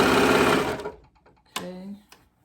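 A serger stitches quarter-inch elastic onto fabric in a loud, fast, steady mechanical whir that stops abruptly, followed by a brief pause and a short voice.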